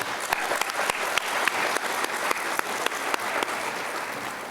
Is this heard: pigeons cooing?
no